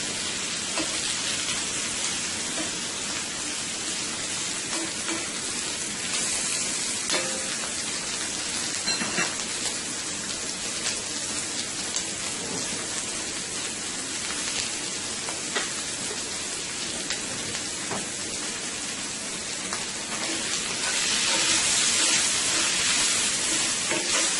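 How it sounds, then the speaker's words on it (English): Shrimp frying in a pan gives a steady hiss of sizzling oil that runs without a break for over twenty seconds and grows slightly louder toward the end, with no voices. "My shrimp is cooking up nicely here."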